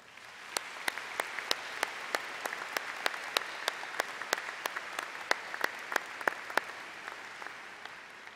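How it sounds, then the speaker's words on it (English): Audience applause at a 2014 high school graduation ceremony: a sustained crowd clapping wash, with sharp individual claps standing out in a steady rhythm throughout. "let's share our appreciation and pride in their accomplishments by giving them one more round of applause"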